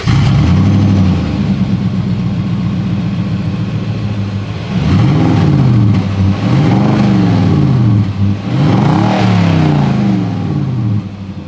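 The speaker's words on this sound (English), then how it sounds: "As always, here is that exhaust clip." A 2022 Nissan Titan PRO-4X pickup idles with a deep exhaust rumble, then its engine is revved three times in rising and falling sweeps. The sound is close and loud, with no talking.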